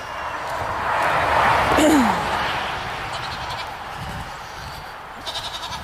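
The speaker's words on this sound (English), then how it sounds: "I have to feed the goats too" A goat bleats once, fairly close, amid outdoor background noise, with some faint rustling and a few soft sounds afterward.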